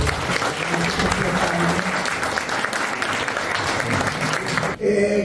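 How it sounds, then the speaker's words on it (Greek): Applause at a public event on the Greek island of Andros, a crowd clapping loudly and continuously for about five seconds before a brief dip and a voice emerging at the end. "αυτό τους αξίζει ένα μεγάλο χειροκρότημα και ένα ευχαριστώ πάρα πολύ"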